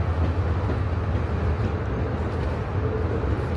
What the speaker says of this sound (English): We need to stop this train.